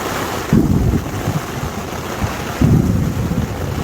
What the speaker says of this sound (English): I've been out here this year in some gnarly storms. I tell you, this is one of them.